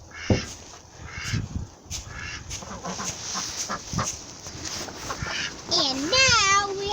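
Ducks quack in a duck hutch as its bedding is cleaned, with short bursts scattered through the clip, a clearer rising call near the end, and children and adults talking over them.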